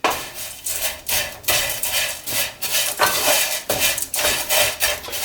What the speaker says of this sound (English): I stir it up.